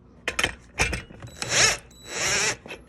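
A freewheel being unscrewed with a freewheel tool from a Razor electric dirt bike gives close metallic ratcheting clicks and scraping bursts, a few short rasps followed by two longer grinding turns.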